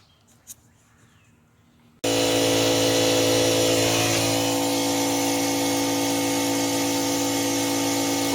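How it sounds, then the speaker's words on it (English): An angle grinder cuts into a cracked exhaust manifold on a 2008 Pontiac, starting abruptly after a quiet moment and then running as a loud, sustained, high-pitched whine without a break. "so I cut it with the angle grinder so I can get some penetration when I weld"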